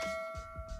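A short notification bell ding rings out, with bright sustained tones and a couple of softer repeated chime hits, clear and alone with no talk.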